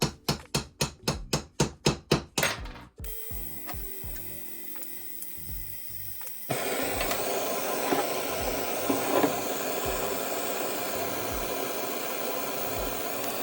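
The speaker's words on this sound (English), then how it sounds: "used a socket to hammer it out" A socket hammered against a bearing in a heated Yamaha XT600 engine case: about nine sharp, evenly spaced metallic blows, then a few scattered knocks, followed by a steady hiss of a heat torch with faint clinks.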